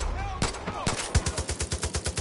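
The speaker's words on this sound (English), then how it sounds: "Oh, he's got a machine gun." Rapid machine gun fire in the video game Far Cry 5, a steady rhythmic burst of close, loud shots that follows a few heavier single blasts, with no talk over it.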